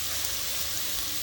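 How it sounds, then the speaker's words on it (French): Sliced onions and leeks sizzle in olive oil in a saucepan for a soup, giving a steady, close, bright crackling hiss with no talk. "On fait chauffer de l'huile d'olive dans une casserole, puis on met les oignons et les poireaux émincés."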